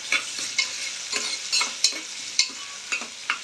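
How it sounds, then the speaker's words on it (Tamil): Onions sauté in a pan with cinnamon, cloves and cardamom. A spatula scrapes and stirs in regular strokes, about two per second, over a soft crackling sizzle, with no talking. "வந்ததோட வெங்காயத்தை போடுறோம். வெங்காயத்தை நல்லா வதக்கிக்கிறோம்."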